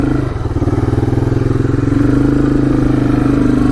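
A rebuilt vintage Honda three-wheeler sits running close by, its small engine idling with a steady, fast, loud putter that holds an even rhythm and rises slightly partway through.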